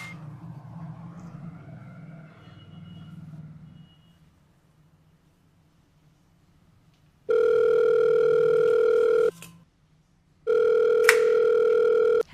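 A telephone rings after a number is dialled: a steady electronic ringback tone sounds for about two seconds, stops briefly, then returns for another two seconds, loud and clear with no talking over it.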